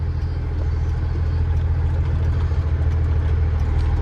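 A Freightliner FLD 120 semi truck hauling a huge agricultural tire rolls slowly over a hole, its diesel engine a steady, heavy low rumble with a faint rattling texture, close and unbroken throughout.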